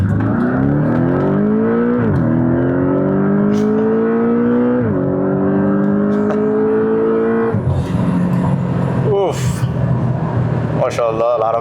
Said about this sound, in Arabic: عندنا برضو ان الشكمان دلوقتي بقى مفتوح فهيطلع صوت احلى واحلى